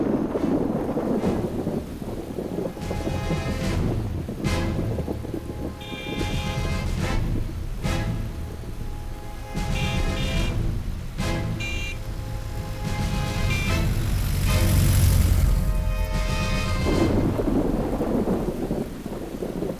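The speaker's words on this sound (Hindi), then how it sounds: "बारिश होने वाली है" Steady heavy rain pours outdoors while thunder rumbles and cracks repeatedly, loud and continuous throughout with no voices.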